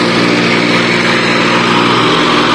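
A tractor engine held at full throttle around 1800-1900 rpm, a loud, steady, close drone with an even mechanical hum and no change in pitch.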